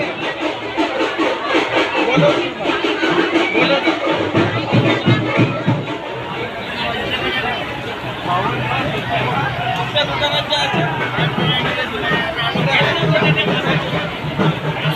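A dense crowd fills a railway station at Warora for the arrival of the goddess Jagdamba Ambabai, a steady hubbub of many voices and chatter all around, with someone talking close over it.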